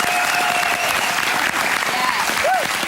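A television quiz-show studio audience applauds a musical performance, with dense sustained clapping throughout and a host's voice and some whistling riding over it.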